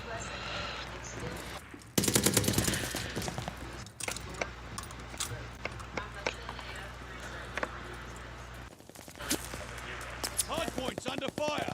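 Video game gunfire crackles in rapid automatic bursts and scattered shots, loud and close, mixed with in-game voices and other battle sounds.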